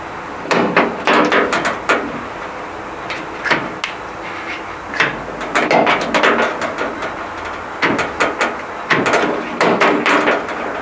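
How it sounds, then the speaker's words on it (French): A Twingo door lock fitted to a 1982 Renault Trafic is worked repeatedly, giving bursts of sharp metallic clacks and knocks, close and loud, with short pauses between them. "Je peux enfin verrouiller la porte."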